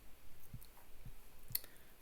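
A single mouse click on a save button, a short sharp tick standing alone in a quiet room.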